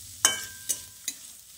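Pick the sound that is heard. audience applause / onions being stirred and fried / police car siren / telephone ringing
onions being stirred and fried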